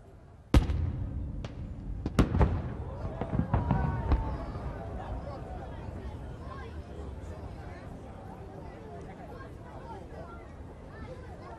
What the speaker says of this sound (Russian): Выстрел салютной пушки с Петропавловской крепости дал сигнал к началу празднования Дня военно-морского флота России.